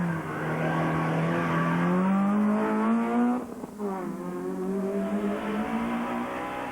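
Peugeot rally car at the 2001 Rally of Wirral, its engine loud and close, revving up through rising pitch, briefly dipping as it shifts or lifts, then pulling hard again; no speech.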